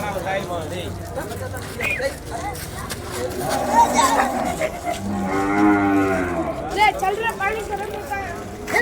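Cattle at the Vaniyambadi cattle market moo in long, loud lowing calls, one after another, over a background of crowd chatter and people talking nearby.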